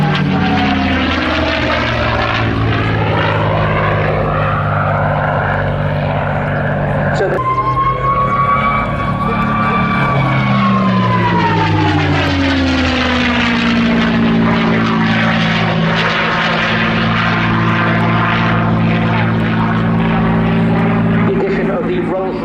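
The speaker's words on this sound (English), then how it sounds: "That beautiful whine of that beautiful Merlin engine." A P-51 Mustang's Rolls-Royce Merlin engine roars through an airshow display, loud and sustained, with a high whine that rises and then sweeps down as the aircraft passes, while a commentator speaks over it.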